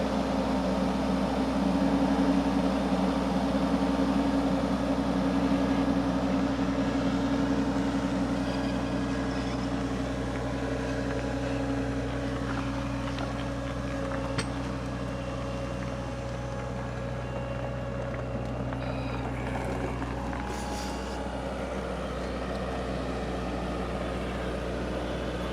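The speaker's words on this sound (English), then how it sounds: "this is an AGT Mower King flail mower" A Cat skid steer runs an AGT Mower King flail mower, giving a steady low engine drone with constant hum and faint mechanical clatter over about twenty-five seconds, no voices.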